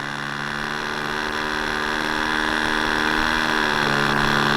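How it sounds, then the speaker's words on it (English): A new SH46 Sonic Hi Wing model airplane engine idling during break-in, a steady buzzing drone with strong harmonic tones that rises slightly in level over a few seconds, close and continuous with no talk. "for a new engine, that idle is a little low"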